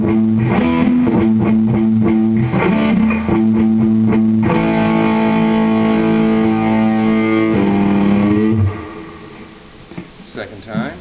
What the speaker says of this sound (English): now we'll play the verse riff slowed down